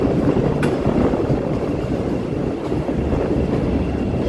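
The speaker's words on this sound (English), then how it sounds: "Here comes the L." A Chicago L elevated train passing, a broad continuous rumble of rolling rail cars mixed with wind buffeting the microphone, steady and moderately loud with no voices.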